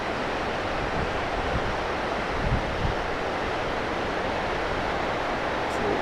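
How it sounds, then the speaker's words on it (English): St. Anthony Falls on the Mississippi River in central Minneapolis, a broad, steady roar of falling water heard from a distance, continuous and dense with faint wind. "Absolutely beautiful flowing Mississippi River here in the center of Minneapolis."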